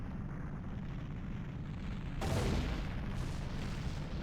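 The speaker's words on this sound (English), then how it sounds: "That was a big ol' explosion." Explosion in The Legend of Zelda: Ocarina of Time on the Nintendo 64, a low rumbling roar that swells into a heavier boom midway and keeps rolling, faint and distant-sounding.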